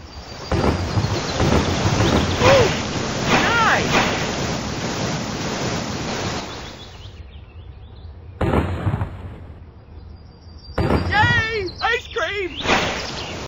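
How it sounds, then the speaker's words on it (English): A geyser in its steam phase billows out with a loud, continuous roar for several seconds, then cuts off and returns in short bursts, with a voice talking over the noise. "steam billows out for hours together with a very loud noise"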